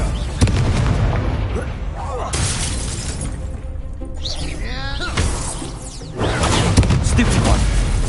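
A fire spell cast in Hogwarts Legacy on PS5 bursts out as a loud whooshing blast, layered among other spell effects and dense game noise, with a player shouting over the action.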